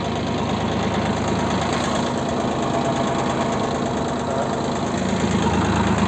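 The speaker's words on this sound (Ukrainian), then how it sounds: "Так, народ, дивимося, як він на другий з фрезою рушає. От Бачимо, фрезеруємо." Tractor with a turbocharger and a rotary tiller working in second low gear, its engine running loud and steady with a constant knocking rumble and vibration, no talking over it.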